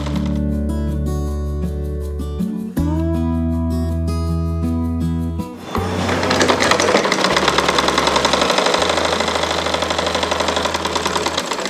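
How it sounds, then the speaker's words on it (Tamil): A sewing machine stitches old cloth crosswise, first under sustained musical tones, then with a fast, steady mechanical chatter for the second half. "இப்போ நம்ம இந்த துணியை வச்சு இப்படி கிராஸில் வந்து தையல் போட்டுக்கலாம்"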